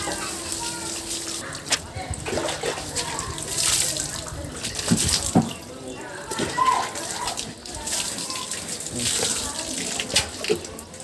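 Water splashing and gushing while a bike is washed outdoors, uneven sloshing bursts with dripping between them. People talk over it throughout.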